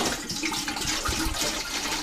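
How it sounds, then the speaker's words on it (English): About two quarts of water poured from a tap into a kitchen pot for brine, a continuous close splashing and filling sound with no talking. "We'll get the water in the pot."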